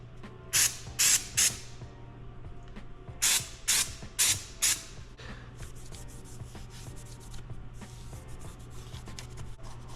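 Cleaner sprayed onto the mating surface of a Ford Coyote engine being swapped into a Fox Body Mustang, in close, loud hissing bursts: three quick sprays, a pause, then five more, followed by a faint steady scrubbing or wiping sound.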